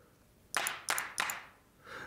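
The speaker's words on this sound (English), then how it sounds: "Clap is also okay." A programmed clap sample from a drum sequencer fires three times in quick, even succession, each hit a bright burst with a brief tail, heard alone and up close.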